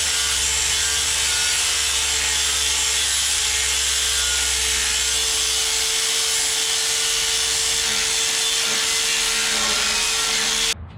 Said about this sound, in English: I hit this with the grinder.